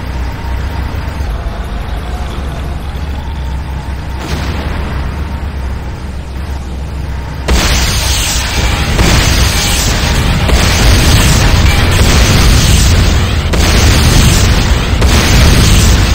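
Explosions rock a GDI weapons factory under attack in the game Command & Conquer: Renegade, with a steady rumbling roar that swells into louder, dense repeated booms and bursts through the second half.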